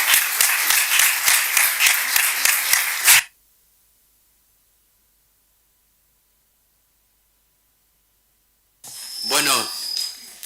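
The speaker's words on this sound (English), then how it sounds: "Let's have a big applause to Commissioner Breton, and to the rest of the panelists" Audience applause at a conference panel session on the global struggle for technological hegemony: about three seconds of loud, rhythmic, near-unison clapping that cuts off abruptly into silence, followed near the end by a brief voice.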